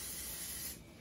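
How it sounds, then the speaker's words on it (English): Olive oil sprayed onto toasted brioche from a kitchen spray can, a steady close hiss that cuts off and thins out near the end, with no talk. "I'm just gonna add a little bit of olive oil spray on the toast, instead of dousing it"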